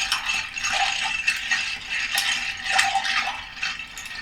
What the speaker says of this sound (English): I don't know if you can hear me from all this noise I'm making with the ice.